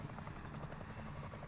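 A helicopter in Warzone whirs with a steady rapid rotor thump and hum, constant and fairly faint as if at some distance, with no talk over it.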